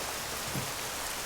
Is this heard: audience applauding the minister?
no